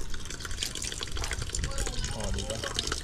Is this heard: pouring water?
yes